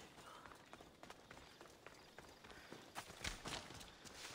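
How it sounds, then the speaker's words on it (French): Horse hooves clip-clop in a quick, steady rhythm in the video game Assassin's Creed Odyssey, growing fainter as they move off, with a brief louder clatter near the end. "Le cheval qui s'éloigne"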